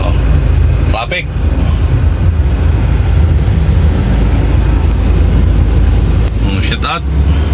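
Road traffic on a Philippine highway heard from a moving vehicle, a loud steady engine and road rumble with a couple of brief passing whooshes, under a voice talking.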